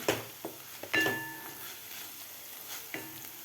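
Gram flour roasting with onion-tomato puree in a pan, a low steady sizzle under repeated scraping and stirring of a spoon against metal, close and clear with no talk.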